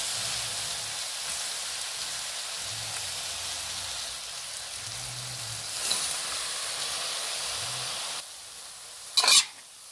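Cabbage and pork stir-frying in a hot pan, a steady loud sizzle with repeated scraping strokes of a spatula at a regular rhythm, ending with a sharp metallic clank; no talking.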